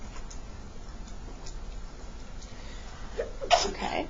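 A single sharp sneeze near the end, fairly close and loud, after a quiet stretch of faint ticking room noise.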